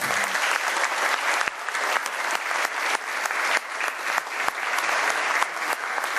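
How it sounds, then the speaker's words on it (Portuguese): Steady applause from an audience at a civic cultural ceremony, loud and continuous, with dense clapping throughout and no talking on top. "Peço que recebam todos com uma salva de palmas."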